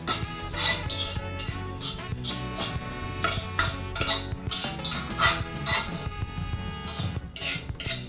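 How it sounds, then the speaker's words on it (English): Cooked okra from a Nigerian egusi and okra soup being moved from a pot onto a small plate, with repeated clinks and scrapes of a utensil against pot and dish. "So I will now transfer the okra into a small plate."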